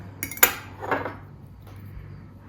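A fork clinks against a plate while spearing cut melon pieces: two or three light metallic taps close together, then a softer scrape, quiet and close with no talk.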